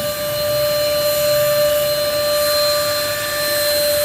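A small sofa maintainer foam machine runs with a constant, loud mechanical whine and airy hiss, a steady high tone holding unbroken and alone from start to finish.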